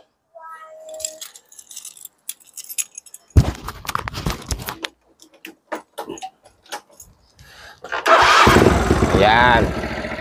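Scattered clicks and jangling, a few soft voices, then a motorcycle engine turns over and settles into a loud, steady idle.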